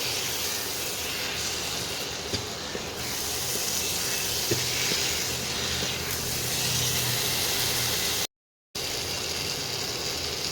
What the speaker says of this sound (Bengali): এঁচোড়গুলো দিয়ে মশলার সঙ্গে একটু কষিয়ে নিতে হবে।